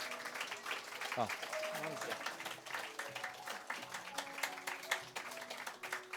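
A church congregation claps steadily through a special early-morning prayer service, the dense patter running beneath a voice that keeps talking over it.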